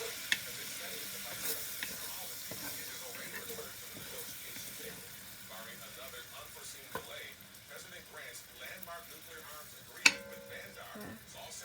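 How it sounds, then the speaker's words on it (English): A burger fries in a pan with a soft, ongoing sizzle, broken by scattered clicks and clinks of kitchen handling, including a sharper tap near the end; no words are spoken. "I'm gonna turn this down a little bit because I don't want my burger to burn"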